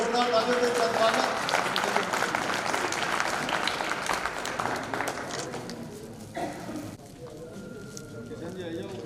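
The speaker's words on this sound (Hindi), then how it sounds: "राज्य स्तर पर सम्मानित हुए, जोरदार तालियों से स्वागत।" Loud, dense applause fills a state-level honouring ceremony for Corona warriors as an honoree is welcomed, steady clapping from a large crowd that thins slightly near the end.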